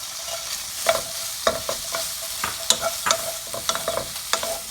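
Shrimp stir-fried with garlic in a hot pan: a quick, irregular series of sharp spatula scrapes and clacks over a constant sizzle, close and unaccompanied by speech.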